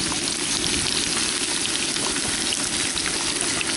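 Potatoes frying in hot olive oil at a camping cookout, a loud, steady, dense sizzle that stays constant and close throughout with no talking.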